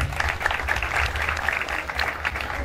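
A live audience at a children's show applauds continuously, a dense, steady wash of clapping from a crowd that stays even in level throughout.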